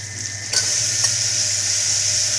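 Potato and masala cooking in a pot of mango sambar give a steady bubbling sizzle, with a couple of stirring scrapes near the start.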